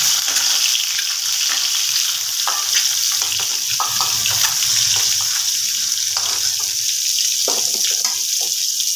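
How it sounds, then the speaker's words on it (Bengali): Potatoes drop into hot oil beside fried eggs in a pan, giving a loud, continuous close-up sizzle with occasional clicks of a spatula, with no talking. "এখানে এক সাইডে আমি আলুগুলো ছেড়ে দেবো আর ডিমগুলোকে তুলে নেবো"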